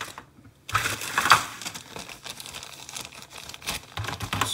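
Plastic bags holding Revell 1:25 1969 Dodge Daytona Charger model kit parts are cut open close by. Crinkling and crackling rustle is heard throughout, with sharper crunching bursts between the irregular handling noises.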